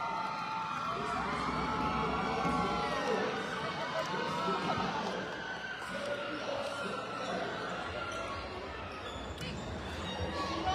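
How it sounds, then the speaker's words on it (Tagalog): Crowd cheering and roaring in an arena during a city basketball championship final, continuous and loud, with balls bouncing, squeaking shoes and a commentator talking over it throughout. "Grabe yung crowd."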